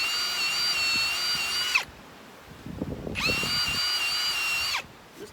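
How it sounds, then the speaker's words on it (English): A power drill whines at high speed in two long bursts, drilling a small hole in the top of a lawn mower tire, with a short pause of low rustling and clatter between the bursts. "I'm going to drill me one old hole right here on top."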